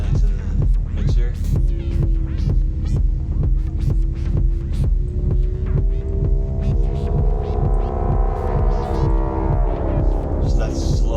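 A slowly modulated synthesizer techno voice built in VCV Rack drones with a steady throbbing pulse, its tone gradually shifting and brightening over a repeating beat, loud and continuous.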